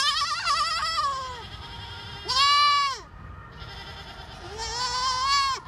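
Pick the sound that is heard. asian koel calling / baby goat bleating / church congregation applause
baby goat bleating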